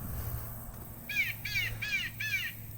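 Four harsh, evenly spaced crow caws from an electronic bird scarer on a farm with cover crops, loud and rasping over a low constant background hum.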